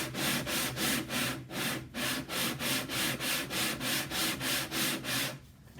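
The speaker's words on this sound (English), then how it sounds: "and I'm going to start sanding this." A wooden guitar top sanded by hand in a 15-foot radius dish, a rhythmic series of about fifteen even back-and-forth rubbing strokes, close and steady, with no talk.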